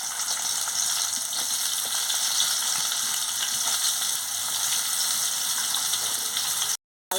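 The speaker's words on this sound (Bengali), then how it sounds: "তেল গরম হয়ে গেছে, আমি পটলগুলোকে দিয়ে দিচ্ছি।" Pointed gourd (potol) sizzles in hot oil in a kadai, a loud, steady frying hiss close up, with faint stirring ticks and a brief cut-out near the end.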